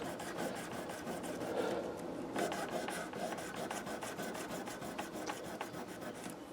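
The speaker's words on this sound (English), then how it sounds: "try to clean the frets with a little 1000 grit, and just to kind of shine them up" Guitar frets on a B.C. Rich Bich are rubbed with 1000 grit sandpaper, giving quick, rhythmic rasping strokes that repeat steadily and close up, with no talking.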